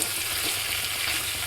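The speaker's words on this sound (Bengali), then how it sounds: "সয়াবিনগুলো দিয়ে আমি একটু মশলা কষিয়ে নিলাম।" Soybeans that were fried earlier sizzle and crackle steadily while being sautéed with masala, a close, loud, continuous frying hiss with no talking.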